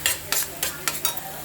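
Apple halwa with melting sugar is stirred in a pan, giving five quick, evenly spaced scraping strokes over a faint sizzle, close and clear.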